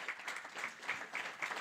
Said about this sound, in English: Please do not hesitate to give another round of applause